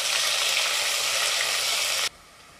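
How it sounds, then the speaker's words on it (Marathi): Chopped onion fries in hot oil in a pan for egg biryani, a steady close sizzling hiss that cuts off abruptly near the end, with no talking. "आता आपण कांदा घालायचा आहे आणि कांदा आपल्याला चांगला 2 मिनिटं परतून घ्यायचा आहे"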